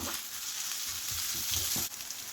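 Half a tomato drops into hot oil with salted masala in a pan and is stirred, giving a brief close sizzle with a few soft spatula scrapes and no talk.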